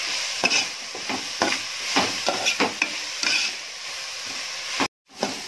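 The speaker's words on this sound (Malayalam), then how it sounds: "ഇനി സവാള ചേർത്ത് കൊടുക്കാം. സവാള ചേർത്തിട്ട് ഒരു ശകല ഉപ്പിടണം." Onions fry with a pinch of salt in oil for a Kerala-style chicken roast. A steady sizzle runs underneath while a spoon makes repeated close scraping stirs, with no talking.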